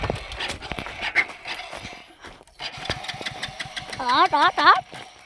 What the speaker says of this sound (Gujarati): આ ટ્રેક્ટર આપણું હાલો ચાલુ કરી નાખ્યું